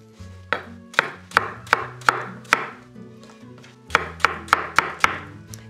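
Knife chopping diced apple pieces on a cutting board for buttermilk apple fritters, about a dozen crisp, evenly spaced thunks in two quick runs separated by a short pause, close and clear.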